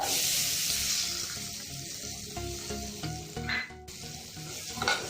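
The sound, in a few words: chopped ivy gourd (kundru) frying in spiced oil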